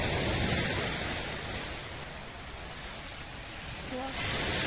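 Sea surf washing onto the shore on a cold day, a steady broadband wash close by, with faint voices briefly underneath.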